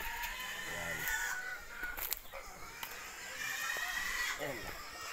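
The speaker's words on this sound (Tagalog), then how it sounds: "may mga manok siya pang sabong ata ito" Fighting roosters crow and cluck nearby on a farm against constant background noise, with a few sharp knocks in between and a crow rising again near the end.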